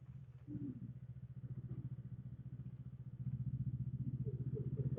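A Honda CMX 500 Rebel V-twin engine and exhaust while riding: a soft, low, rapid engine pulse that climbs slightly in pitch and loudness partway through, heard alone and fairly muted.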